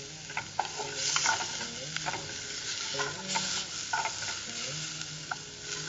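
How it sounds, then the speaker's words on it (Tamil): Whole spices being dry roasted in a pan for a Tamil kondai kadalai varagarisi rice dish, with a spoon scraping and stirring in repeated strokes over a soft, steady sizzle, close and alone without talk. "இதையும் வந்துட்டு நல்லா சமைச்சு அந்த பச்சை வாசனை போற வரைக்கும் நீங்க அதை நல்லா ட்ரை ரோஸ்ட் பண்ணிட்டே இருக்கணும்."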